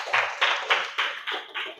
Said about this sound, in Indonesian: tepuk tangan untuk temannya